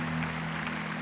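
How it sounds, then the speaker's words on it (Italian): Steady applause from a crowd for musicians fills the clip, with a constant low hum running underneath. "Applausi ai musici."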